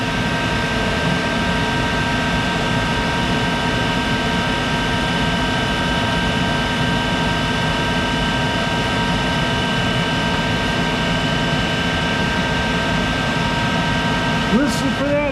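A 1951 Monarch 10EE lathe making rough and finish cuts on a steel roller, a steady close mechanical drone with a constant whine, ending with a brief rising squeal near the end.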